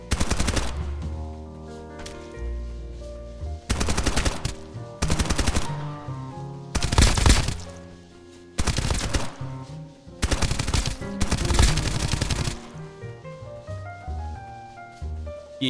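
Rapid bursts of automatic gunfire in the video game Escape From Duckov while the character runs, loud close volleys repeating in short clusters separated by brief pauses over quieter game sounds.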